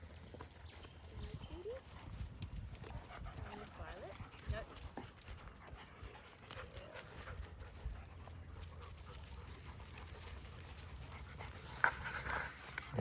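Farm dogs pant and shuffle about at close range, soft rhythmic breathing and scattered footfalls under quiet talk, with a sharp tap near the end.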